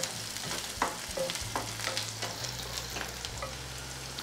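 Chillies and other ingredients are being sautéed in a pan for a banana flower egg stir-fry, giving a soft, steady sizzle with intermittent scraping stir strokes, fairly quiet and without talking.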